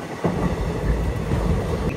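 Hyderabad Deccan to Purna Express train (17647) running past Lakdikapul station, a loud close rumble with rhythmic clickety-clack of wheels on rail joints, heard alone from inside the moving train.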